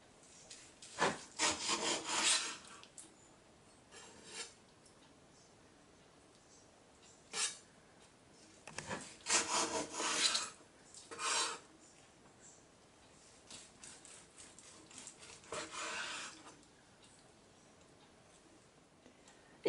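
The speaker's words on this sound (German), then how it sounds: "Das Fleisch schneiden wir jetzt in feine" A knife slices marinated meat into fine strips on a board, making several bursts of rasping, sawing cuts separated by pauses, close and fairly loud.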